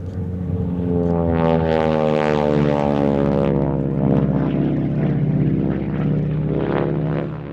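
A North American Harvard propeller plane flies past at an airshow, its rasping, droning engine loud and close, with the pitch shifting slowly as it passes.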